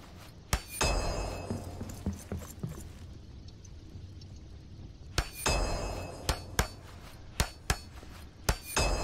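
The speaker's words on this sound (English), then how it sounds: "Now I'll fix the damage done by the bolts, and those pieces won't look damaged anymore." Hammering repairs in Lord of the Rings: Return to Moria ring out as sharp metallic clangs, a pair early on, then a quicker series of separate strikes with short gaps, clear against a quiet mechanical background.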